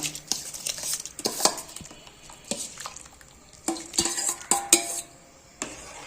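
Soaked Gobindobhog rice goes into dal in a cooking pot, heard as scattered metallic clinks and scrapes of a spoon against the vessel, with louder knocks in bursts and a faint simmer beneath.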